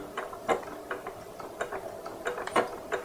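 A sewing machine, turned partly by its hand wheel, runs through a few stitches on a gingerbread man softie, giving a quiet, close mechanical ticking and clacking in an uneven rhythm with no voices.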